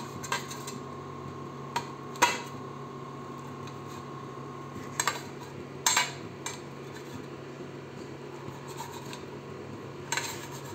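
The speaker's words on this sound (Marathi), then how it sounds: "असे छोटे छोटे काप करून घ्यायचे आपण" A knife cuts food into small pieces, producing sparse, faint clicks and scraping taps against a board or pan at irregular intervals over a low steady background hum.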